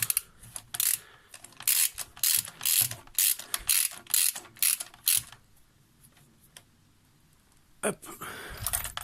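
Ratchet tightening the spark plugs on a Peugeot 206: a fast run of clicking pawl strokes close by, then a pause and a last burst of clicks.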